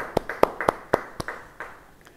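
At a church Bible study, a small audience gives a short round of hand claps: a handful of sharp, uneven claps close by, thinning out and fading within about two seconds, with no speech.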